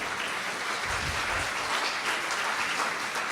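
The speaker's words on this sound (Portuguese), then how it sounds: "Vamos aplaudir o Deepak Chopra." A lecture audience applauds for a speaker, with steady, dense clapping from many hands holding an even level throughout and no talking over it.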